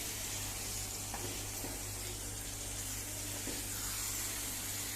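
Chicken hearts frying in a pan with a little added water, a dense, steady hiss of sizzling with a few faint clicks, even in level throughout.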